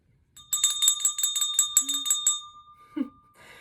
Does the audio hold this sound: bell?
yes